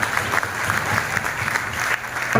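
Audience at an award ceremony claps loudly and steadily, a dense sustained burst of applause filling the whole stretch.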